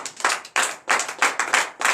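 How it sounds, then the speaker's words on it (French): A church congregation claps during a night deliverance and prophecy service in Comè, Benin, in loud, close bursts of several quick claps separated by short pauses, without talk. "on doit applaudir pour ça au moins"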